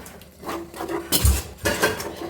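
A utensil stirs dry spicy chicken kondattam gravy in a pan, producing close scraping and clinking strokes with a couple of louder knocks against the pan, alone without talk.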